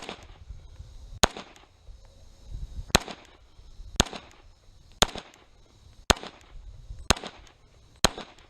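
A 1911 pistol fires seven sharp, loud shots at a target on a shooting range. The shots come singly at an even pace of roughly one per second, each a crisp crack with quiet gaps between.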